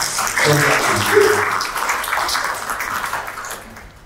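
An audience breaks into applause to welcome the first speaker at a conference, with clapping that is loudest early and then tapers off over a few seconds, alongside faint voices.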